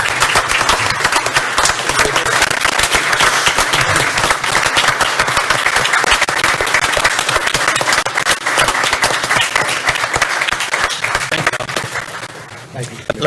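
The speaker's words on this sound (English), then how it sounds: "How about a round of applause for the commissioner?" Attendees at a county commissioners court meeting give a commissioner a round of applause, a loud, sustained burst of clapping that carries on for most of the stretch before tapering off at the end.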